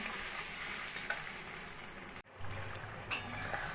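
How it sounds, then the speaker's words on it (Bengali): Tangra fish curry with potatoes cooks on a low flame after water is added, giving a steady close bubbling sizzle; a brief cut midway, then softer bubbling with a few light clinks. "জল দিয়ে এবার আমি লো ফ্লেমে রান্নাটা করে নেবো যতক্ষণ না আলুগুলো সিদ্ধ হচ্ছে"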